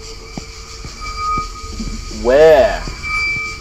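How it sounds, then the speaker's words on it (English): In The Ghost Train horror game, a train rolls past with a steady rattling rumble and regular clacks, then a loud wavering horn-like whine swells and fades. A voice speaks briefly over it. "It's a train."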